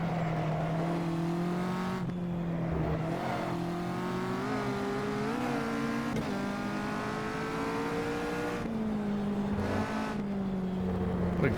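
Caterham 360R race car in the Automobilista sim at Cadwell Park, its engine note droning steadily and loud throughout, pitch climbing and dipping through gear changes with brief lifts around corners.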